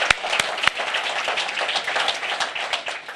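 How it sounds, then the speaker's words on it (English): Applause for the mayor at a city meeting on a regional medical center: a continuous patter of many hands clapping, with a few sharper claps near the start, filling the room at moderate volume. "if we can give him a round of applause"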